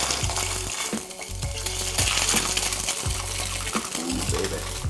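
Red snapper sizzles and crackles steadily in hot oil in a restaurant kitchen, a loud, continuous frying hiss with occasional pops and low clunks of the pan.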